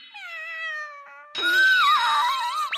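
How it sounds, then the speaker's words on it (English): An adorable kitten in an anime meows in a few high, drawn-out cries, first thin and clear, then a louder, brighter meow after a short pause, close and alone. "For your loyalty, your friendship, we offer this adorable kitten."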